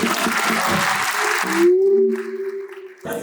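An audience breaks into applause, a dense burst of clapping for about a second and a half before it cuts off and gives way to a sustained tone, with the crowd noise returning briefly at the end.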